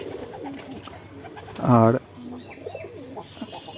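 Domestic pigeons give a short, loud burst of throaty cooing at close range, set apart from their pen-mates, with softer background noise and a brief spoken word from a man.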